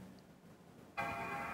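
A MacBook startup chime rings out as the laptop powers on without keyboard or battery, a single sustained tonal gong that begins abruptly partway through and holds steadily to the end.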